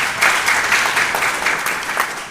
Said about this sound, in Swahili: A round of applause to Pastor Ann Lawrence